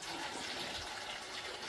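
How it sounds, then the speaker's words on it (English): Water splashing as hot spigot water is thrown over a person during chilli cooking and canning, a loud continuous gushing wash that stays even throughout. "She just threw water all over me."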